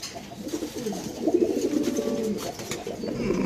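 A pair of silver pigeons cooing close by, with repeated soft throaty coos overlapping in a rolling rhythm.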